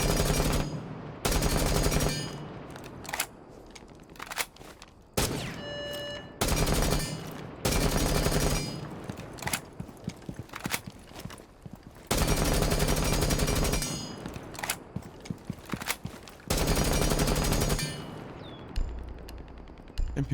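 AUG rifle firing in Rainbow Six Siege, loud sustained automatic bursts in about seven separate volleys, each a second or two long, with short gaps between them and no talk.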